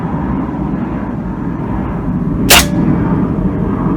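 A .177 air rifle fires a single pellet at a target hole, one sharp crack standing out against a steady background hiss.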